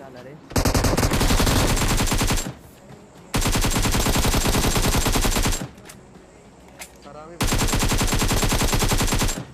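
Sustained bursts of MG3 machine gun fire in the BGMI battle royale game, loud and close, in three long rapid-fire volleys separated by brief quieter gaps.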